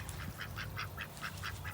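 A backyard flock of ducks quacks in a steady series of about seven evenly spaced calls, moderately close and clear over a low background hum.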